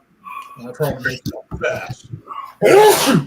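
A single loud, close sneeze bursts out right after a man's speech in an indoor conversation.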